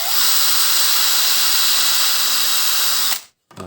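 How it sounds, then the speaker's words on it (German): A cordless drill bores small holes into a wood plate, its motor whining loud and steady at close range for about three seconds before cutting off abruptly. "So, jetzt bohre ich noch hier 2 kleine Löcher rein"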